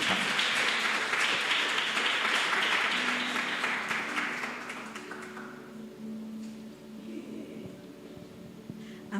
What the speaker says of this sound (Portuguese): E você aplauda o Senhor Jesus.